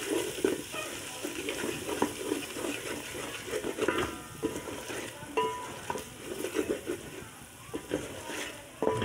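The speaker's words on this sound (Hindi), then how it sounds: "ये इसमें धनिया ऐड कर दिया, इसको अच्छे से मिक्स करेंगे।" Stirring coriander into chickpea pulao in a pot: a spoon scrapes and clinks against the metal pot in repeated irregular strokes while the food sizzles, close and moderately loud.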